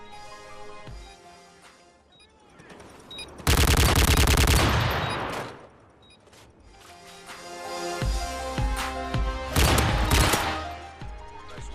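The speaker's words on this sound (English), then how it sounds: "you take a Barrett 50 cal and you shoot it as fast as you can" A Barrett .50 cal rifle fired as fast as possible in the video game MW3 gives two loud bursts of heavy, booming shots in quick succession, separated by quieter gameplay.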